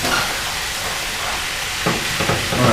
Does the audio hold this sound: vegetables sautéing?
yes